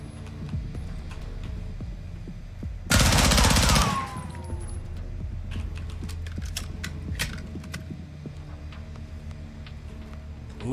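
AK rifle gunfire in Call of Duty: Modern Warfare II, a loud, dense burst of about one second, standing out against a steady background of game sounds and hum.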